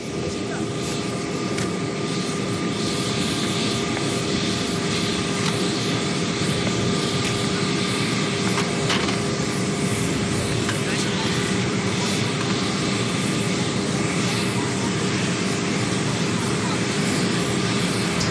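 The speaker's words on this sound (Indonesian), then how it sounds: "pesawat yang digunakan oleh Paus Fransiskus ini bukanlah pesawat khusus, namun merupakan sebuah pesawat komersil" A commercial airliner carrying Pope Francis arrives at Soekarno-Hatta airport, its engines a loud, steady roar throughout, with a voice talking over it.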